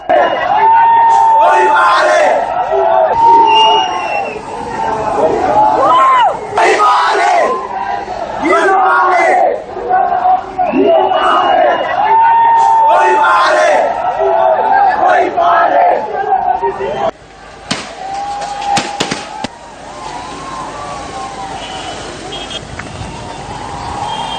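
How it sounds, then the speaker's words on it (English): Loud crowd of protesters near Polduwa junction in Rajgiriya being dispersed by police, with shouting, chanting and roaring voices, then a sudden drop to thinner noise and scattered calls near the end. "As the protesters closed in on the Polduwa junction in Rajgiriya, the police took steps to disperse the crowd"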